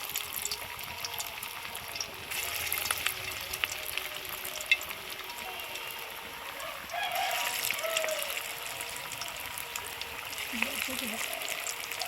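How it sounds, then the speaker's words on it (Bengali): Soybean pakoras fry in hot oil with a steady, close sizzle that swells in places, while faint background voices and a bird-like call sound intermittently. "এবার আমি পকোড়াগুলো ভেজে নেব।"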